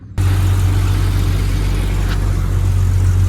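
A car engine cranks and catches abruptly after oxygen sensor replacement, then settles into a steady, loud, low rumble that holds evenly throughout.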